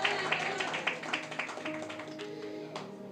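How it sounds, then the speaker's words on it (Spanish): A church congregation claps together in a quick, steady rhythm that thins out over a few seconds, heard up close in a resonant room. "Denle un aplauso fuerte al que vive,"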